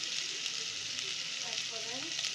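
Food being stirred in hot oil gives a continuous close sizzle with soft, faint scraping, and a voice murmurs quietly underneath near the end.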